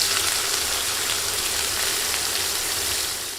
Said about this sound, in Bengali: একই তেলে দিচ্ছি পেঁয়াজ।